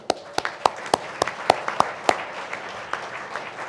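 Sparse, distinct handclaps from an audience at the North Carolina Awards ceremony in the North Carolina Museum of Art, a few individual claps spaced regularly over a soft crowd applause that fades toward the end.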